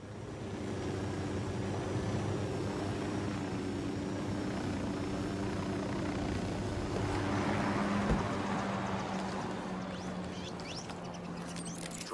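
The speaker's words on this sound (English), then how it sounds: "Drone is airborne." A drone in Ghost Recon Wildlands lifts off with a continuous whirring rotor hum, steady and moderately loud, rising slightly in pitch as it climbs, with no talking.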